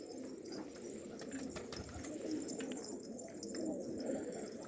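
Pigeons coo low and rolling on a rooftop, several soft repeated calls amid faint outdoor background noise and occasional flutters.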